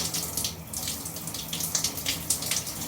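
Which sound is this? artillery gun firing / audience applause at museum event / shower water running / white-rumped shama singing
shower water running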